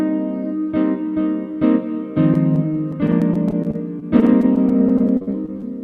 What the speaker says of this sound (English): I have a jazz guitar sound on, just a simple, nice jazz guitar number 2.